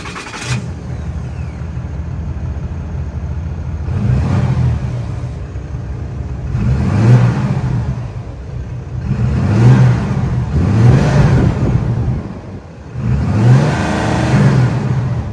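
The 6.7-liter turbo Cummins inline-six diesel in a 2023 Ram 2500 Mega Cab Laramie idles with a deep rumble and is revved about five times in swelling pulses, loud and close, with no talking.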